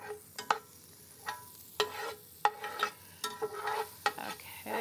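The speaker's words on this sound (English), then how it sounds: "Okay, the onions are cooking." Onions cooking in a pan for a Bombay street-style bread omelet, a soft steady sizzle broken by sharp clinks and scrapes of a utensil stirring against the pan, no talking.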